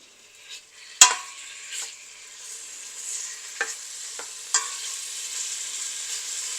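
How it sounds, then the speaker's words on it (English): Food sizzles steadily in a hot pan, a constant close hiss broken by a few sharp clinks and scrapes of stirring. "heat up the pan and fry until light golden"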